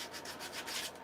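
Brief, soft sanding of a hand-carved wooden woodspirit flower vase, a faint steady rubbing scrape with gentle back-and-forth strokes.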